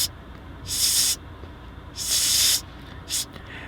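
A voice imitates a Lysol aerosol spray can, giving three sharp hissing bursts: two long sprays and a shorter final one, loud and close with quiet gaps between.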